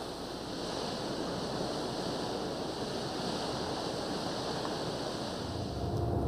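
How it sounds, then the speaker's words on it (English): Emerald-green streams rushing through the deep, narrow Verzasca gorge in Ticino, a steady broad roar of water with some wind, unbroken and fairly distant. "Versasca is a deep, narrow gorge being cut even deeper by rushing streams of emerald green water."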